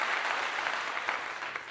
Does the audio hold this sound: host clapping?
yes